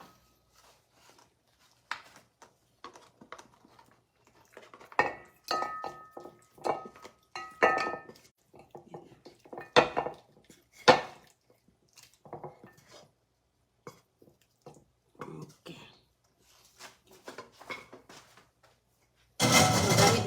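A frying pan handled in a home kitchen, with scattered clinks and knocks of cookware at close range over a quiet background and a louder clatter near the end.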